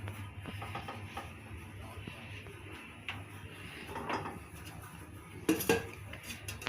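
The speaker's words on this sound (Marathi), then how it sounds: "कढई तापत ठेवली" Metal kadhai (wok) clanks onto a kitchen stove to heat, with scattered scrapes and clinks of cookware and utensils over a low steady hum, one sharper knock near the end.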